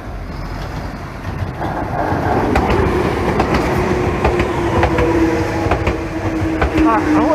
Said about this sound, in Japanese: レトロ電車。